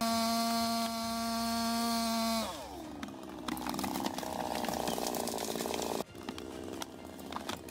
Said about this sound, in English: With chainsaws roaring and the earth trembling, you fell giants